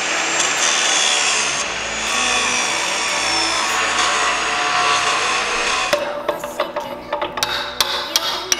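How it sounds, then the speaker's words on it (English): Steady grinding or sawing cuts through a bolt on the chassis of a Tatra truck, a continuous harsh rasp for about six seconds that then breaks into choppy, uneven strokes and knocks. "I have to cut the bottom bolt."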